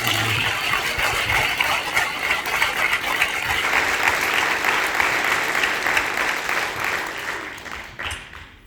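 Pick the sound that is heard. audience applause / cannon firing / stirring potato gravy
audience applause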